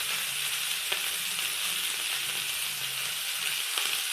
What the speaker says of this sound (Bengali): আমার ওদিকে সবজিগুলো ভাজা হচ্ছে